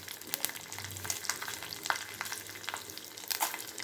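Red chillies and urad dal sauté in a hot pan, a soft steady sizzle broken by small pops and occasional stirring scrapes, fairly quiet with no talk.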